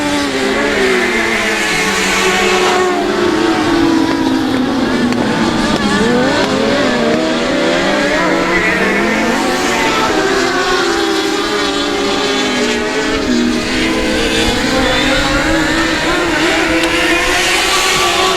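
Race cars roar continuously around a dirt track during a qualifying night at the South Texas Nationals, engines loud and overlapping as they pass and rev through heavy lap traffic, with no pause throughout.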